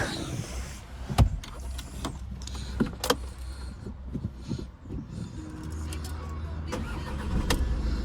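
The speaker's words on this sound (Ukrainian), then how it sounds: "Покажу вам, як заводиться автомобіль" A SEAT car starting up: a few clunks and a short electric whir, then the engine cranks and catches into a low, faint idle, heard close with some light talking.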